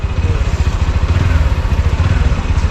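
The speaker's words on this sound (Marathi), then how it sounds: "नॉर्मल गाडी है ह्याचा काय आवाज येणार आहे मग सायलेन्सर लावला तो" A motorcycle engine runs steadily at low revs, a deep even rumble with a fast pulsing throb that fills the whole clip.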